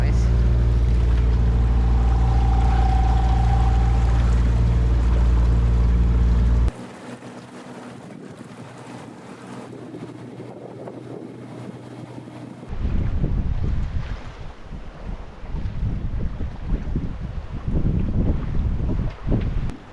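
Sailboat engine drone and rushing wind give way to splashing and slapping waves against the hull as it motors over waves, with gusty wind noise over the microphone.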